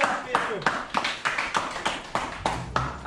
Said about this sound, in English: Give him a round of applause, people.